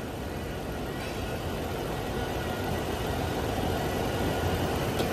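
A Toyota Prado Land Cruiser with a 4.0 engine idles, giving a quiet, even, continuous rumble with no change in pace.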